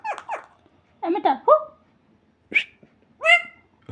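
A pet parrot imitating a dog's bark: several short, sharp bark-like yelps in uneven bursts with brief silences between, close and clear.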